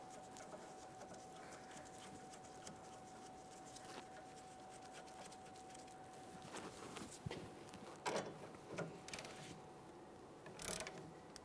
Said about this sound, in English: Once we have it bottomed out, we'll snug it using our inner tie rod end tool.